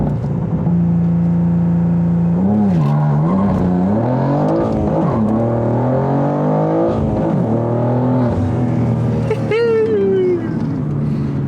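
A BMW G87 M2 launches hard on launch control with slight clutch slip, its engine held at a steady droning rev before the pitch rises and climbs through the gears, loud and close, with brief talk over it.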